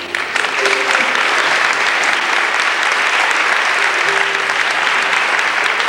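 Steady applause from a pageant audience at a 1995 Days of 47 event, a dense, even wash of clapping that carries loud and unbroken for the full length without letting up.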